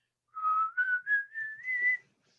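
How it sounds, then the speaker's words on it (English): A person whistles one clear tone that climbs gently in pitch, held for nearly two seconds with small wavering breaks, alone in a quiet room. "So I think the whistling does do it."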